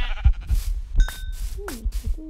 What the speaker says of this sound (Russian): Моя родная овечка, иди ко мне, иди ко мне,